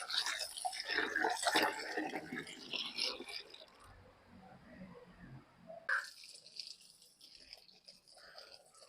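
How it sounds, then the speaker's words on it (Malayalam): Beef being washed in water, with splashing, sloshing and dripping up close, bursts of handling noise at the start and again midway, then quieter trickling. "എനിക്ക് ബീഫ് നന്നായിട്ടൊന്ന് കഴുകിയെടുക്കാം."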